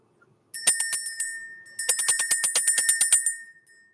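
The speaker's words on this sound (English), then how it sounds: "We're going to ring the bell." A small bell is rung in two bursts of rapid, bright strikes, the first short and the second longer and denser, close and clear with no talking.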